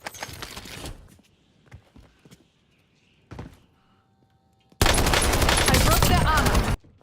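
Gunfire in a shooter video game: a burst of rapid automatic shots, scattered single shots and thuds, then a long, loud, sustained volley of fire near the end.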